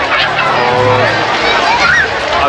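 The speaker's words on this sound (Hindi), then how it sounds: "जैसे आप जाए तो काफ़ी भीड़ है गाइस" Busy crowd bustle on the ghat near the bridge at Haridwar, a steady loud babble of many voices and movement, with someone talking close over it.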